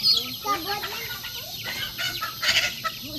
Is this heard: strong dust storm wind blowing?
no